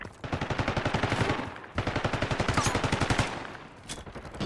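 Sustained rapid automatic gunfire in Call of Duty Black Ops 6 multiplayer, loud and close, in two long rhythmic bursts with a brief pause between them.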